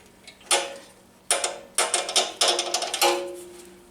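A ratchet wrench loosening a blade nut on a Craftsman 14.5 HP chipper shredder, giving several close, sharp bursts of quick metallic clicks separated by short pauses, with no talk.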